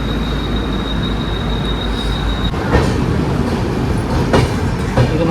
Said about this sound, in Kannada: ಕರ್ಜತ್ ರೈಲ್ವೆ ಸ್ಟೇಷನ್ ಡಿಪೋಡ್ ಆಯ್ತು ನೋಡ್ರಿ